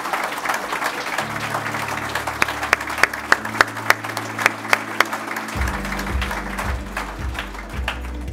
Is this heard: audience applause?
yes